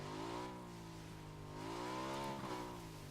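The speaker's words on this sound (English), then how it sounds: "Just sliding along, because that's what you do when you slam on the brakes in the snow." A motorcycle slides across snow in the PUBG Vikendi snow map, its engine droning steadily while the pitch dips and rises again, loud and alone with no voices.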